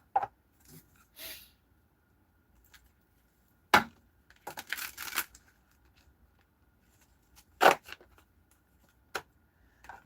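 A deck of cards shuffled by hand, heard as a handful of sharp, close riffling bursts spread apart by quiet pauses, with no talking.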